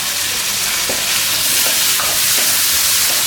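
Onions sauté in a pan with a loud, dense, continuous sizzle, close up and steady, with faint stirring knocks now and then.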